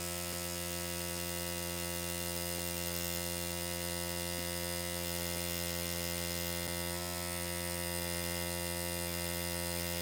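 A tattoo machine lines skin with a 111-needle grouping, giving a steady, close electric buzz with an even mechanical hum and no pauses throughout.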